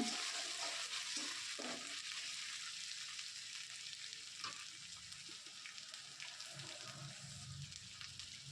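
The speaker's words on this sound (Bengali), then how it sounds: "এবার আমি এর মধ্যে দিয়ে দিচ্ছি কুচানো টমেটো এবার টমেটো দিয়ে এটাকে নাড়াচাড়া করে আবারও আমি" Chopped tomatoes for chole fry in a pan, giving a continuous soft sizzling hiss with occasional faint stirring scrapes, fairly quiet throughout.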